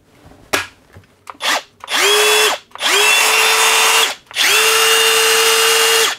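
A Hercules 20V brushless cordless compact 1/4 in three-speed impact driver runs in a few short blips, then three long loud bursts with brief pauses between, its motor whine rising at each start and holding steady.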